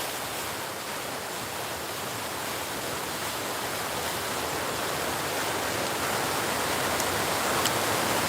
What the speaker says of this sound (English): Nice little water feature.